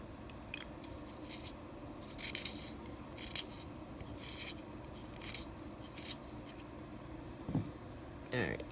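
Palomino Blackwing graphite pencil being sharpened: soft, close scraping and shaving bursts in irregular short strokes at low volume, with a quiet voice in the background.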